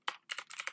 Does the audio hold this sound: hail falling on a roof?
no